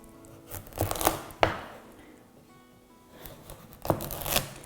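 A kitchen knife slices a butternut squash down the middle, giving a few short crunchy cuts and scraping strokes, near and fairly quiet, with pauses between bursts.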